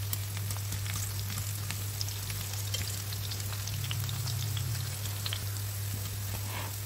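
Carrots and potatoes fry in hot oil for a light vegetarian home dish, giving a steady, close sizzle and crackle that runs unbroken throughout with no voices.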